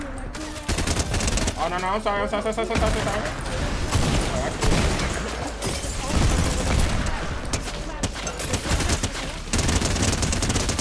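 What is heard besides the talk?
minigun firing in a video game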